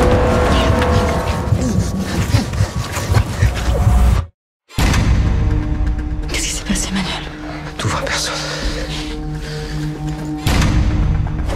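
A car speeds off in a French crime film trailer, engine revving and whooshing amid dramatic music and tense voices, broken by a brief moment of silence before the roar and dialogue return.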